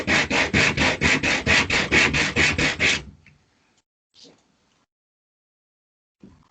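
Rough edges of scored and snapped pieces for a lamp tower being sanded in about a dozen quick, even back-and-forth strokes, loud and close, followed by silence with a couple of faint knocks.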